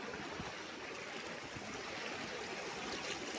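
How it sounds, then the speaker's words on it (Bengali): A strong stream current rushing over rocks, a continuous broad watery roar with no let-up, heard close and steady throughout with no voices. "দেখো বন্ধুরা কতটা স্রোত এখানে"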